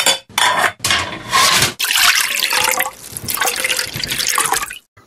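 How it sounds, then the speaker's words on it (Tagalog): Okra and water spinach splashing into a pot of simmering pork sinigang broth, a few loud watery plops and splashes followed by sustained bubbling and liquid churning. "hinulog ko na po ang okra at isinunod ko na rin po ang kangkong"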